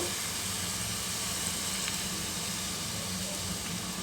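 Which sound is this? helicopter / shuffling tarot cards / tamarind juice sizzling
tamarind juice sizzling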